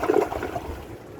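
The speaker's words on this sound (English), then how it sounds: "Now let's give it a flush." An American Standard Cadet 3 toilet flushes with a short loud rush of water that fades into a softer trickle within about a second.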